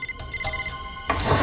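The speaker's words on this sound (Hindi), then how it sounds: "फोन कहां बज रहा है?" A mobile phone rings from inside a drawer, repeating electronic ringtone notes that sound close and clear, with no talking.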